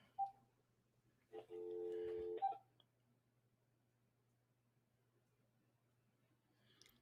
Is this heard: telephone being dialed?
yes